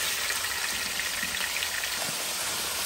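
Chicken for karahi fries over high heat, giving a dense, steady, loud sizzle that runs unbroken throughout.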